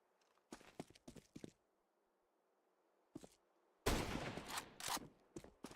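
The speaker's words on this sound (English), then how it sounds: "Scout shots firing off" Scout sniper rifle shots in a Counter-Strike match, several sharp cracks spread out in short bursts with quiet gaps between them, then a louder, denser stretch of gunfire and impacts.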